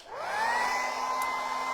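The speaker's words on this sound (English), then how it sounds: "So I'll just hit that with the hairdryer." A hairdryer blows on wood stain on an IKEA step stool, its motor whining up to speed and holding a steady close hum with an airy rush.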